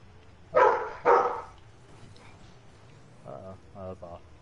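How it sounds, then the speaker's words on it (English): A dog barks loudly twice in quick succession close by, followed by a quieter stretch with voices talking during a Rocket League gaming session. "Your dog is so loud"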